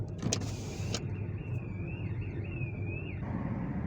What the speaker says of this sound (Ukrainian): Сигналізація до сих пір тут свистить.